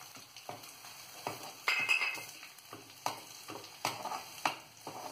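Cinnamon pieces dry-roasting in a pan while mutter paneer is prepared, giving a soft crackling sizzle broken by repeated scraping stirs at a steady, unhurried rhythm, close by and with no voices.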